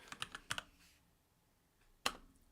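Typing on a computer keyboard: a quick run of crisp key clicks, a short pause, then one sharp isolated keystroke, close and fairly quiet in an otherwise still room.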